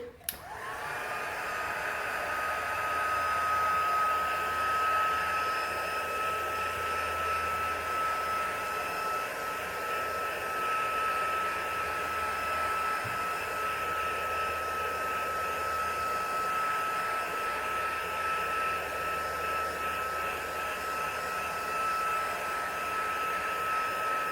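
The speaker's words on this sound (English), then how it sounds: "when you're heating it, do make sure that you keep moving your heat tool around, because we want to heat the entire surface of the stamping" Heat tool blowing hot air onto stamping foam: a steady, loud, close whirring roar of fan and airflow that runs unbroken throughout.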